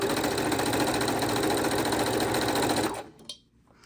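Sewing machine stitching fabric scraps together for a scrappy quilt, a close, fast, steady mechanical whir that runs for about three seconds and then stops abruptly, followed by a small click.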